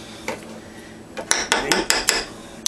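Spoon pressing horseradish against the side of a glass jar, a run of sharp clinks and scrapes in quick irregular succession, close and fairly loud, with no talking.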